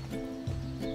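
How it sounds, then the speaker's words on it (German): A horse in the video game Star Stable Online gives a short, faint whinny-like call over a steady hum of game music, lasting about a second. "da ist ein Pferd."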